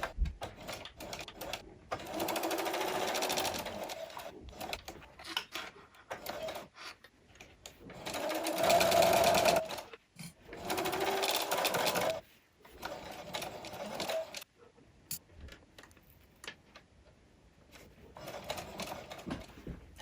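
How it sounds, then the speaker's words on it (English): A sewing machine stitches around the edge of a plush Valentine's heart in several bursts of fast whirring, each a few seconds long, separated by pauses and quiet handling noises. "take your time sewing around the edge of this"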